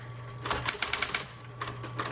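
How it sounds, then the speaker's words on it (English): Keys strike on a 1960s Smith Corona Electra 120 electric typewriter in a quick run of sharp clacks, then a few more scattered taps, close and crisp over the machine's low motor hum. "I'm gonna keep typing."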